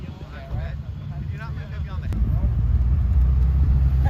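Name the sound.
car engine revving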